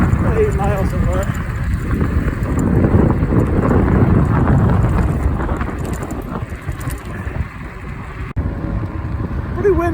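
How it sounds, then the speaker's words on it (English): Strong wind buffets the microphone while riding an Ecotric fat tire e-bike, a loud, continuous low rumble that swells and eases over the whole stretch, with a brief dropout near the end. "Really hard wind today."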